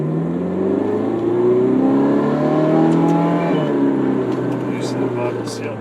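A Ferrari on a road test accelerates steadily, its engine note rising and holding loud and close from inside the cabin, with a faint whir and road noise underneath.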